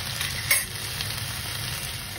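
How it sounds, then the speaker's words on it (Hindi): Taro root and potatoes frying in oil over a low flame give a steady, close sizzle with a soft bubbling crackle, plus one brief stir-like scrape early on. "अभी फ्राई हो रही है"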